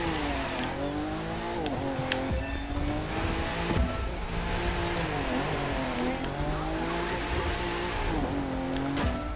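Nissan 370Z drifting in the racing game The Crew 2: a loud, close engine rises and falls in revs through gear changes, with long tire squeals and skids sweeping continuously, and no talking.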